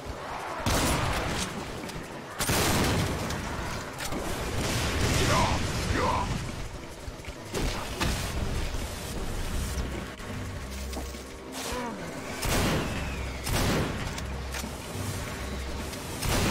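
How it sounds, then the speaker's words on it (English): Pump shotgun blasts in DOOM, heavy booming shots with mechanical pump actions between them, mixed with other game sounds and bursts across the stretch, fairly loud. "the regular pump shotgun is just my favorite gun"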